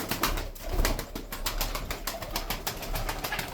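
A pigeon flapping its wings repeatedly at close range, a run of quick rhythmic wingbeats that lasts a few seconds, with no talking.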